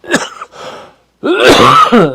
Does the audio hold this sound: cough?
yes